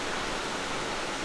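Waterfall beside a creek on an off-trail hike, a steady broadband rush of falling water heard up close and loud, continuous and even throughout with no voices.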